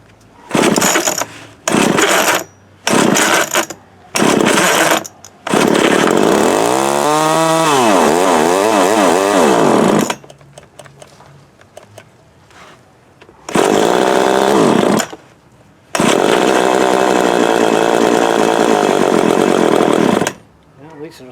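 Montgomery Ward TMC 24052B chainsaw engine sputtering to life in short loud bursts, then revving up and down in long runs with pauses between, heard close and without talk.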